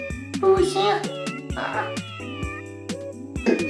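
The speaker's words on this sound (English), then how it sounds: "He has 3 cats." Pet cat in an apartment meowing repeatedly, several drawn-out, close and fairly loud meows with short pauses between them.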